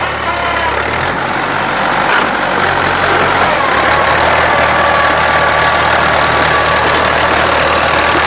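A tractor engine runs steadily while pulling through a wet paddy field, a loud, continuous mid-range rumble with a slight knock that stays close and constant throughout, no voices.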